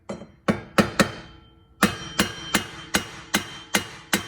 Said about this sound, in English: get your hammer and you want to tap on the side of the hub